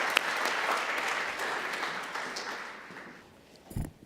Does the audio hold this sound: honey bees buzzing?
no